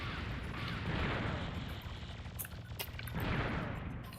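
Rapid gunfire in a video game, fast bursts of shots running together into a dense, loud barrage that swells and dips across the clip, with no talk.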